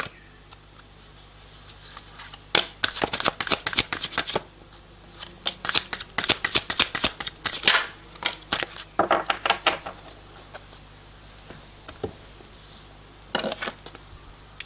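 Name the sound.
shuffling cards for a card reading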